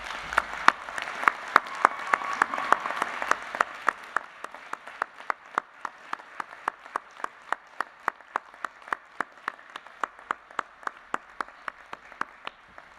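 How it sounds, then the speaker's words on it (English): Guests at a Flinders University graduation ceremony applaud in a hall, a dense crowd clapping that swells early then thins into scattered, regular claps, with no talking over it. "offer them a rousing round of applause"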